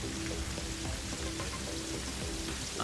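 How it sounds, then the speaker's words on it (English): Rain falling in a video game, a dense, steady hiss of drops pattering on surfaces, fairly quiet and unbroken with no talk over it. "rain now"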